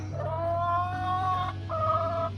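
A white and black Americana hen at a backyard coop gives drawn-out, tonal clucking calls, one long call followed by a shorter one, close and clear over a steady low background hum.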